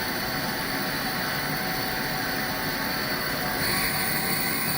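An Okuma ESV-3016 vertical machining center spindle runs at speed, producing a steady, loud, broadband whirring hum that holds constant throughout with a slight lift in intensity near the end.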